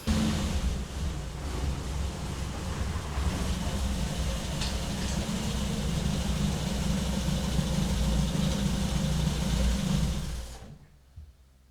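A Triumph Spitfire roundtail drives on a test run, its engine a steady low rumble with road and wind noise for about ten seconds before fading away.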